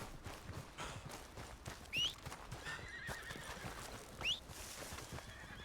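Steady hoof clip-clops with two distinct horse whinnies a couple of seconds apart in Red Dead Redemption 2, nearby and clear against a quiet background.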